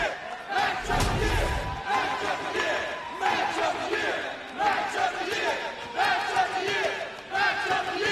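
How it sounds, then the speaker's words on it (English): Large wrestling crowd in Baltimore chants in loud, rhythmic unison after a hard-fought drawn bout, repeated chant phrases swelling over a dense arena roar, with a heavy thud near the start. "Listen to the Baltimore crowd chanting match of the year."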